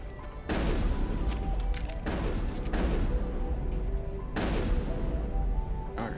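Heavy cannon fire in the sci-fi video game Mass Effect: three loud booming blasts about two seconds apart, each with a long rumbling tail, no voices.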